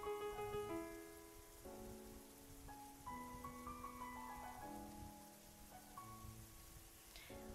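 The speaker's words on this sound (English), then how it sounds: "Shadow sitting in the rain." Steady rainfall in the video game Fausts Alptraum makes a soft, continuous wash under slow, layered synth music chords, with nothing else standing out.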